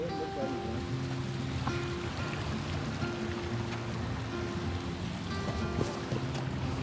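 A small mountain waterfall runs beneath a frozen crust of snow and ice on a snowy Himalayan trek, giving a steady rushing and trickling of water at moderate volume with a faint tonal drone mixed in.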